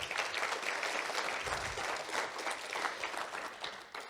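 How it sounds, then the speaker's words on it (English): Steady applause from an audience, a continuous wash of many hands clapping at moderate volume throughout, with no voices standing out. "let's give one more round of applause for our partners at Edison"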